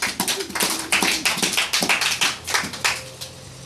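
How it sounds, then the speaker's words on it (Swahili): A congregation at a Bible study claps loudly in a steady run of sharp, dense hand claps lasting several seconds, close and with no talking over it. "Hebu tupigie Bwana makofi makubwa"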